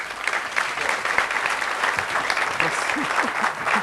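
An audience applauds for actor Thierry Wassège, a steady, dense wash of clapping that runs without a break for about four seconds at an even level.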